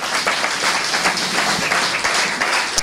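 A church congregation applauds during a French-language sermon, with dense, steady clapping from many hands filling the room, loud and continuous without pause.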